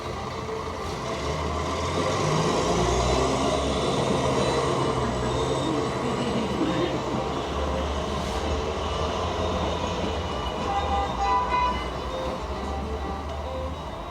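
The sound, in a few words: train riding along the rails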